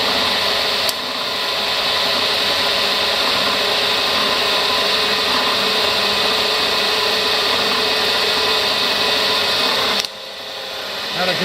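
A Bridgeport 1 HP 9 x 42 inch vertical milling machine with its table power feed engaged, giving a steady loud mechanical whine and hum that starts with a click and runs evenly for about ten seconds before dropping off.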